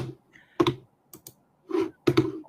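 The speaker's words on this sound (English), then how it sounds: "Why you clicking and clacking?" Sparse computer keyboard clacking and clicks, a few separate bursts of keystrokes at close range with quiet gaps between them and no talking.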